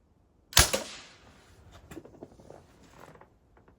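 A hand pump gets worked hard: one sharp, loud mechanical snap, then a string of softer creaks, clicks and rattles as the handle is yanked repeatedly.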